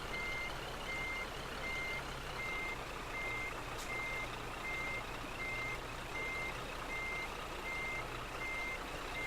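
Steady, evenly spaced reversing beeps from a Scania truck in a driving simulator game, repeating loudly over a constant low engine idle and rumble, with no talk.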